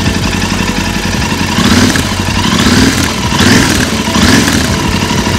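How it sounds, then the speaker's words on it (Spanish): A Royal Enfield Interceptor 650 motorcycle engine runs close up, a steady clattery idle with gentle rhythmic swells in revs, heard alone. "Esto es lo que vibra una Royal Enfield hoy en día, lo que es la Interceptor"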